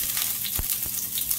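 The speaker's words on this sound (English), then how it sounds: "So now I'm gonna pour in my Scotch bonnet pepper" Scotch bonnet pepper hitting a tablespoon of hot oil in a pot on the stove, giving a steady, close frying sizzle with a couple of brief crackles.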